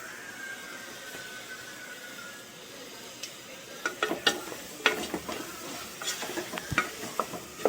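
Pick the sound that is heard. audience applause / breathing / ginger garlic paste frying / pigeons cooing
ginger garlic paste frying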